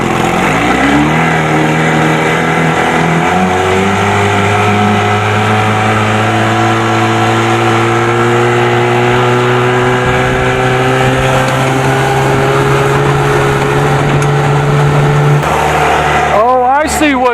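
Evinrude 25 hp outboard motor running at speed on a boat, a loud steady engine drone with slight pitch shifts and a rise near the end, heard close alongside rushing wind.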